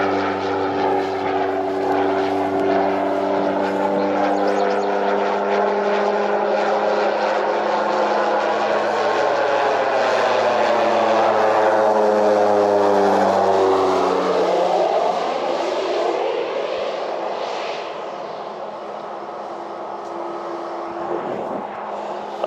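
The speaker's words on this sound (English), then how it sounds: "we got a little crop duster action" A propeller crop duster airplane flies low over a wheat field, its droning engine rising in pitch as it approaches and then sweeping down as it passes and fades into the distance.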